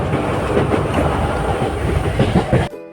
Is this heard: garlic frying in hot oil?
no